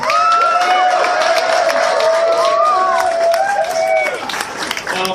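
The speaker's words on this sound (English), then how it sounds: "So I want to have a big applause for Chris and his team" A crowd at a MechWarrior Online launch party claps and cheers loudly and continuously, with whoops and voices mixed into the steady applause.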